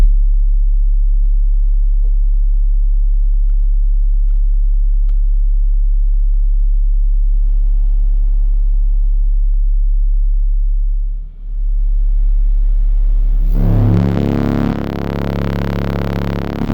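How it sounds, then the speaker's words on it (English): A steady, very loud 35 hertz bass test tone plays through subwoofers as a constant deep hum. Near the end it gives way to a louder, rumbling burst with distortion, and there is no talk. "Or actually, I'm gonna try 35 hertz,"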